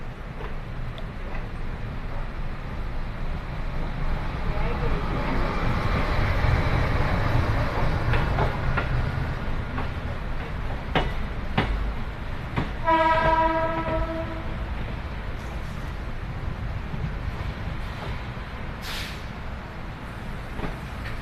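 Train at Rohtak railway station: a continuous rumble of rolling carriages with rhythmic clatter, broken midway by a loud horn blast, heard close with no talk.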